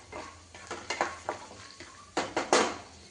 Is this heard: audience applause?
no